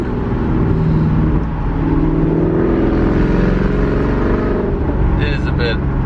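A Maserati's engine and loud exhaust drone steadily from inside the moving car, a continuous throaty hum with slight revving, and a person talks over it.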